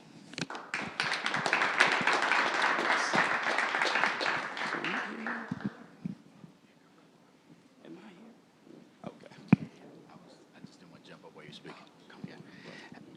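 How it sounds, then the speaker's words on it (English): Audience applause at a leaders conference, a dense burst of clapping for about six seconds that quickly dies away into quiet room noise with scattered taps and murmurs. "Let's give Marcus another round of applause."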